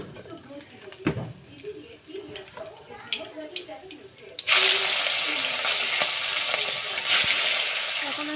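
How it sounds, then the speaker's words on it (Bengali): Chapila fish hit hot oil partway through, and a loud, dense sizzle starts suddenly and keeps going steadily. Before that come quieter kitchen clatter and knocks, and a person talks at the start. "আমি সব মাছ ওরকম ভাজা করবো।"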